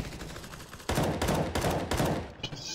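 Rapid gunfire from a Counter-Strike match crackles in several close, loud bursts with brief gaps between them, after a quieter lead-in.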